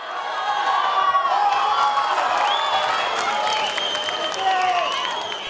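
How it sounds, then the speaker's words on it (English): A stadium football crowd erupts after a goal by the Toti City Dwellers: loud, sustained cheering and applause with whoops and shrill whistles rising throughout. "left the crowd in awe as Simon slotted his second into the net for the City Dwellers"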